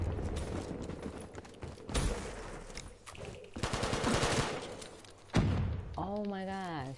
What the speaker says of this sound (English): he just shot me from behind